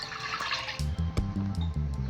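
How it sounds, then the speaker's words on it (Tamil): Water pours steadily into a cooking pot for sambar, with a gurgling splash and a ringing tone that shifts as the vessel fills. "தேவையான அளவு தண்ணி ஊற்றிக்கோங்க"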